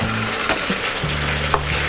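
Pointed gourds (potol) tossed into cooked spiced masala for a Bengali chal potol dish, giving a continuous close sizzle with a few brief clinks and stirring scrapes, no voices over it.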